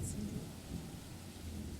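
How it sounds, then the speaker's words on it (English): Rain pours steadily with a low rumble of thunder in the horror visual novel The Letter, a dense, continuous wash of noise heard alone without talking. "the rain fills the early morning silence with a steady beat"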